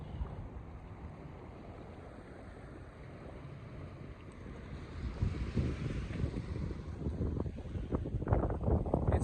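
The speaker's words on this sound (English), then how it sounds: "Could be some wind down here at the lakefront." Wind gusting at a lakefront at overcast sunrise, a steady broadband rumble of wind noise on the microphone that grows louder and more buffeting in the second half, with no one talking.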